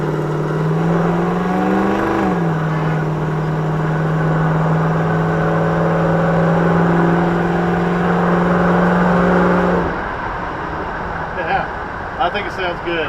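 A 1994 Dodge Dakota pickup's exhaust with a Borla muffler rumbles loudly at a steady idle, briefly rising in pitch, then cuts to quieter background with faint clicks.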